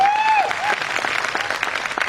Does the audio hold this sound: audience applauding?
yes